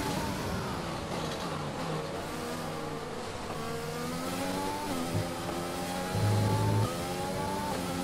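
Formula 1 race car in the game F1 2020 leaving the pits for qualifying at the Brazilian circuit, its high-pitched engine whining and climbing steadily through the gears, loud and continuous throughout.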